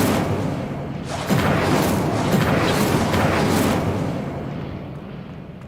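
Incendio fire spell cast in the video game Hogwarts Legacy: a loud, roaring burst of flame that swells, holds with crackling, rushing noise for a few seconds, then fades out.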